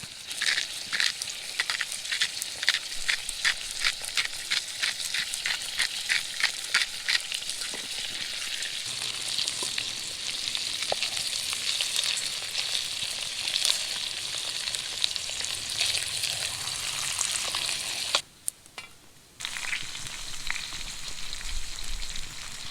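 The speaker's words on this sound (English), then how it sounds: "So I'm just gonna let those burn down to hot coals and just slowly let this fish simmer in this butter." Trout sizzling in butter in a pan set over hot campfire coals outdoors, seasoned with salt and lemon pepper: a continuous close frying crackle with a run of rhythmic ticks early on and a short break near the end, no voices.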